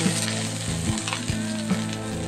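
Onion sautés in cooking oil for pancit bihon, making a continuous close sizzle with small bursts and scraping stirs, and no voices.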